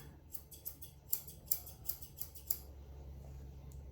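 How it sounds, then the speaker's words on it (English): Scissors snip hair beside a schnauzer's eye and down toward the mouth corner during grooming, giving about eight close, crisp cuts in an uneven rhythm over a low steady hum. "I'm going to trim all the hair from the side of his eye down to the corner of the mouth here, like that."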